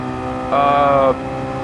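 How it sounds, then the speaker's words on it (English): Car engine in a racing video game played on a Thrustmaster T-80 wheel, a steady harmonic tone that surges briefly in the middle, loud and close. "I'm just listening to that engine,"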